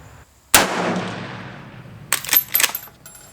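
One sharp, loud shot from a Marlin 336 Classic 30-30 lever-action rifle firing 170-grain rounds, trailing off in a long decaying echo, followed by brief clinks and rattles.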